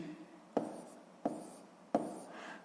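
Pen or chalk writes numbers for a sixth-grade math exercise, three sharp taps followed by brief faint scratching strokes, close and quiet, with no speech.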